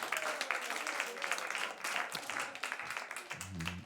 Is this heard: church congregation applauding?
yes